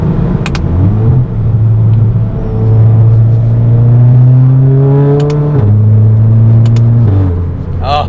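A VW Mk7 GTI with a DSG gearbox revving from inside the cabin as paddle-shifted downshifts bump the engine pitch up in steps, the note climbing steadily between shifts, with someone talking briefly over it.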